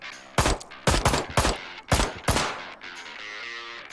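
Enemies open fire in Ride To Hell Retribution, several sharp gunshots in quick bursts at irregular intervals, loud and close, with a lingering tail after the last shots.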